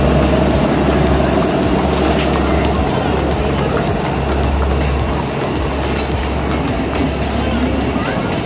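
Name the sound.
Matheran toy train moving past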